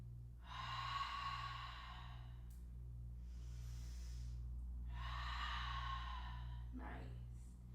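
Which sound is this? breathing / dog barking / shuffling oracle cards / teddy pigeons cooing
breathing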